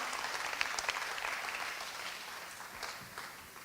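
An audience applauds at an awards ceremony as a spoken-word performer is invited to the stage, steady broad clapping that fades slightly toward the end, with no voices over it.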